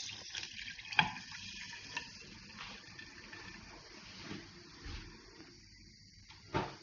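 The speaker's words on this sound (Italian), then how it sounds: "Aggiungiamo un bicchiere d'acqua," Glass of water poured into a pan with olive oil, ahead of cooking rice: soft splashing and pouring, faint and brief, with a few louder knocks and splashes.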